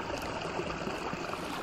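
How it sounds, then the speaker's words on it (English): A small babbling brook runs through a cattle pasture at a national forest campsite in Montana, a soft, continuous trickle and burble heard alone. "I even have my own little babbling brook and everything."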